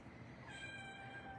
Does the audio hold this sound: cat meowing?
yes